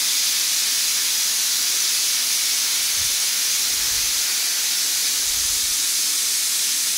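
Kodbale, savory ring-shaped snacks, frying in hot oil, a steady dense sizzle and hiss that stays even and close throughout with faint low bubbling underneath.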